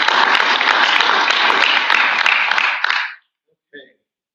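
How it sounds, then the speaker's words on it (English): An audience at a bird-themed mug reveal event claps for the calendar winners, loud dense applause that fades out after three seconds, followed by a brief faint sound. "Let's give a round of applause for everybody."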